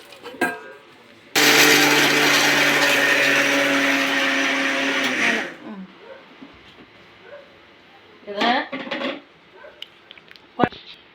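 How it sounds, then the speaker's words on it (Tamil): A mixer grinder whirs loudly for about four seconds grinding soaked chana dal, starting abruptly and then cutting off, followed by handling clatter and a brief voice. "சாரில் கடலப்பருப்பு போடுறோம்ப்பா இதை அரைச்சி கொட்டணும்"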